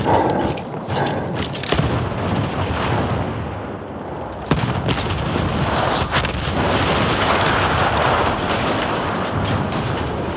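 Battlefield 1 war game combat: a sustained roaring rumble of battle noise with a sharp blast breaking through midway, loud and continuous, with wind-like noise throughout.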